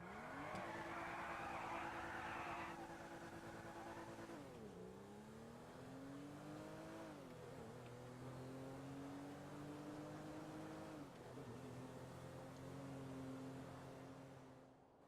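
A Serrano car in GTA Online drives with a steady engine drone that holds a tone, then dips and climbs through gear changes, loud and continuous with no voices.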